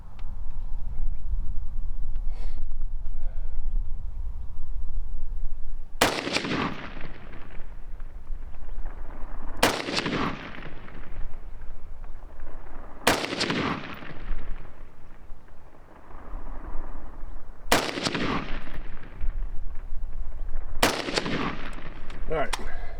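Five sharp rifle shots ring out at a target 36 yards away, fired with a Votatu RMD502 red dot sight, spaced several seconds apart outdoors, each loud and close with a trailing echo over steady background noise.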